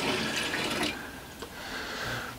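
A cupful of water poured into a saltwater aquarium tank gives a brief, close splashing gurgle that stays fairly level, then tails off, with no talk over it.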